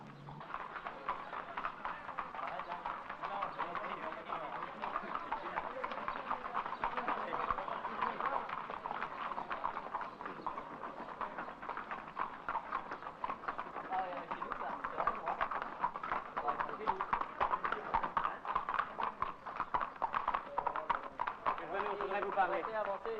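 A horse's hooves clip-clop steadily for over twenty seconds, close and continuous, with an even walking rhythm and some background noise.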